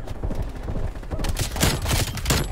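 Rapid bursts of Call of Duty pistol gunfire in a video game match, loud and close, crackling in quick overlapping volleys over a short span.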